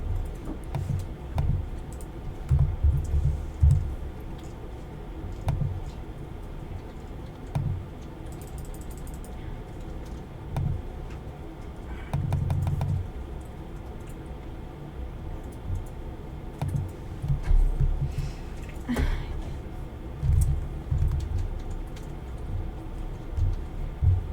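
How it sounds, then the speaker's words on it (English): Rapid typing on a computer keyboard, clusters of clicking keystrokes coming in uneven bursts with brief pauses, close and moderately loud with no talking. "They just can't comprehend what I'm typing."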